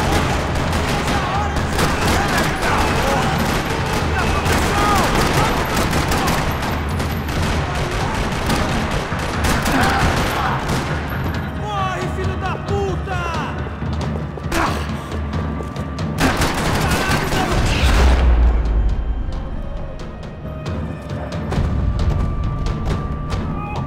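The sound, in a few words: gunfire in a parking lot, from video game Max Payne 3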